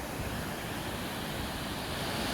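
Rheinbach waterfall at Cascate di Riva in northern Italy, set among ice formations, gives a steady broadband roar of falling water, constant and fairly loud with no pauses or voices.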